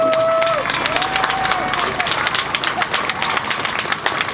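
Dense, sustained applause from a crowd at an outdoor peace vigil in Vienna, many hands clapping continuously at a steady loud level, with a voice briefly audible at the start.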